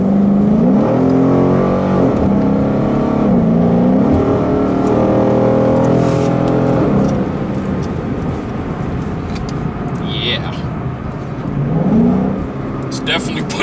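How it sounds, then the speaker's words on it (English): A 2015-2017 Ford Mustang fitted with a JLT cold air intake roars loudly as it accelerates through rising, repeated revs and gear changes, the engine note climbing in pitch again near the end. "you can even hear the engine is getting more air. It's louder."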